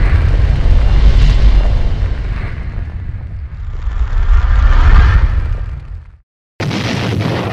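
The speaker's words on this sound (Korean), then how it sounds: "하늘이 무너져 내릴 것 같은 폭음과 총성이 고요한 38선을 뒤흔들었다" Heavy booming explosions rumble one after another with bursts of crackling gunfire, then a brief silence before another loud blast cuts in, depicting the Korean War outbreak at the 38th parallel.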